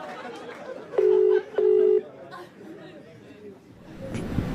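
Two steady, loud electronic phone tones sound one after another, each about half a second, over background chatter and murmuring voices in a comedy show setting, with a call being placed to Shakti Kapoor.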